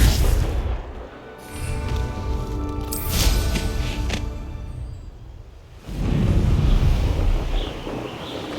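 A Confringo blasting spell explodes in Hogwarts Legacy, giving loud booming, whooshing bursts around the three-second mark and again near six seconds over a steady rumbling, wind-like game ambience.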